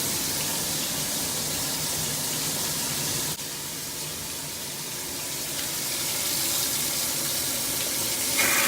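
Water rushes steadily through a hose as a 55-gallon aquarium is siphoned out with a faucet running, a continuous broadband gush that dips briefly and then swells slightly louder near the end.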